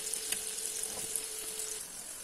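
Fish frying in heated coconut oil in a pan gives a faint, even sizzle with light crackles, steady for the whole stretch and heard alone.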